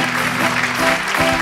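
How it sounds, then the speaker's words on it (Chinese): Applause from a Taiwanese variety show studio audience greeting a celebrity guest, a dense, steady wash of clapping with music faintly underneath. "来掌声欢迎一下屈中恒先生"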